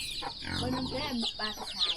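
Chickens cluck and call around a rural Lao village on a rainy morning, moderately close amid constant insect or rain hiss, with a voice speaking over them.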